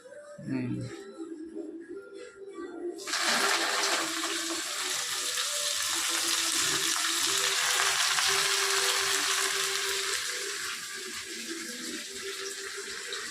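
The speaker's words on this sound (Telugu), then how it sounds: "గోంగూర కూడా వేసేసుకుందాం." Gongura leaves drop into a hot pan for a village-style chutney, setting off a sudden loud, broad sizzling hiss that holds steady and slowly eases, with someone speaking briefly before it starts.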